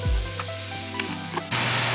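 Beef sizzles steadily in a hot pan, a close, continuous crackling hiss over a low hum that jumps noticeably louder near the end, with no talking.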